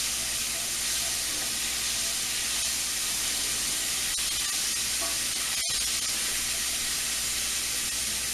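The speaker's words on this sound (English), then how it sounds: "put the garlic in the pan and let it infuse with the oil a little bit" Garlic sizzles in hot oil in a skillet, a steady, close frying hiss that holds evenly throughout with a brief click partway through.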